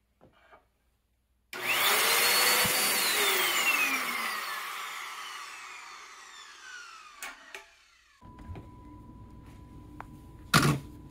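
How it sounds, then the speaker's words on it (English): A vacuum forming machine's vacuum kicks on with a loud rushing whoosh that slowly tapers off, followed by quieter mechanical hum and a couple of sharp clicks. "you want to make sure you get a good droop before you turn the vacuum on"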